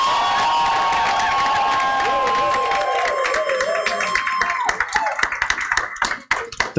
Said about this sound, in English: a good hand clap to these people here.